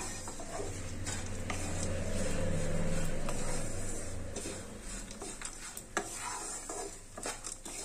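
Poppy seeds and dry fruit being stirred in a pan while making sugar-free dry fruit laddoos, a steady scraping and rustling with a faint sizzle that runs throughout, with a few clinks near the end.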